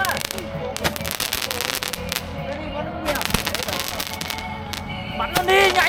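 Fireworks are set off outdoors in a rapid crackling barrage of pops and bursts, with people talking and calling out over the explosions.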